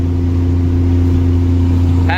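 A Ram 2500 pickup towing a roughly 9,500-pound trailer, its engine droning steadily and loudly in a low, even hum from inside the cab, with a short higher whine entering at the very end.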